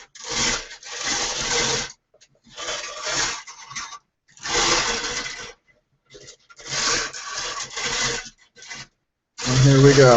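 A hand-cranked draft lottery drum is turned in several bursts, giving raspy, rolling scraping sounds separated by short silences, close and fairly loud, with a voice briefly heard at the end.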